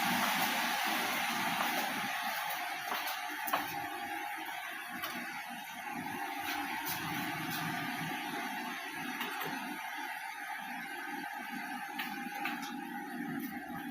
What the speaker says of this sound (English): We got our hood fan on,